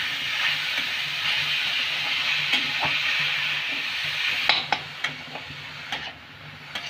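Grated beetroot stir-fried in a pan with browned onion and garlic, a steady hiss of frying with intermittent scraping spatula strokes growing sharper toward the end, close by.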